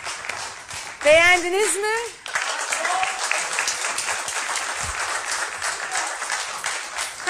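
Audience applause for a singer on a Turkish TV music show rises briefly under a host's spoken voice, then continues as a steady broadband wash of clapping with talk and band sounds mixed in.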